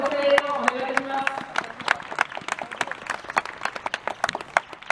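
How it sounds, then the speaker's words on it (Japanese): Stadium crowd at a 2021 professional baseball game between the Oita B-Rings and Ryukyu Blue Oceans claps for the hero after his post-game interview, dense sharp claps building in the open ballpark, with a voice over the PA in the first seconds. "今一度大きなご声援をお願いします。"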